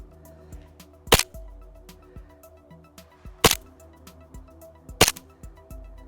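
An Army Armament R603 airsoft gas pistol fires three sharp, loud test shots about two seconds apart, each a crisp crack over a faint background hum.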